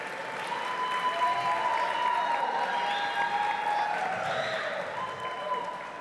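Applause from the audience at the award ceremony of the 11th Festival Nativista, sustained clapping throughout, with a crowd murmuring and sustained tones running underneath and swelling slightly in the middle.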